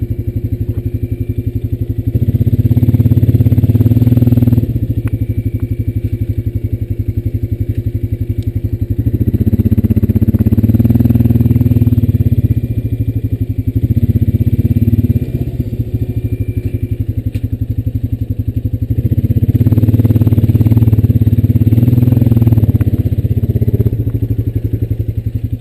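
A Honda Rancher 420 ATV engine runs steadily while riding, a loud continuous low drone that swells and eases with throttle and terrain, with occasional clatter from the machine and ground.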